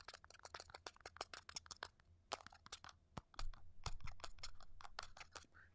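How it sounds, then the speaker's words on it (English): Fake keyboard typing sound effect played over a customer service phone line, a long run of rapid, thin clicking keystrokes in uneven bursts, faint and a little crunchy, with no voices. "when I hear it do that fake typing sound"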